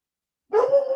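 A single dog's short bark or yelp, fairly close and clear, starting halfway through after silence and trailing into a brief whine-like tone.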